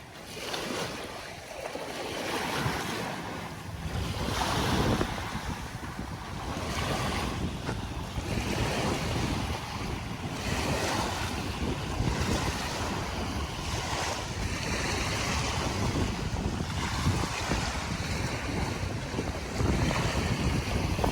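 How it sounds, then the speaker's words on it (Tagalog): Rough waves pound the Manila Bay shore in a continuous loud surging wash, with recurring swells and heavy wind buffeting the microphone throughout. "Lakad lang po tayo kahit na ay nagagalit na naman sa atin yung alon."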